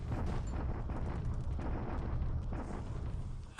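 Artillery bombardment at Bataan in the War in the Pacific strategy game: a dense, continuous roll of booming blasts and rumbling impacts, loud and steady throughout with no talking.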